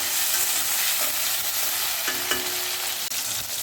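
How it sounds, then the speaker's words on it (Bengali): Tomatoes fry in a pan with a constant bright sizzle, broken by the scrape and clink of a spatula as they are stirred at a few scattered moments; no voices. "টমেটোটাকে একটু হালকা করে ফ্রাই করব।"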